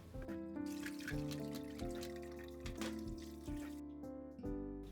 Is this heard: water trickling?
yes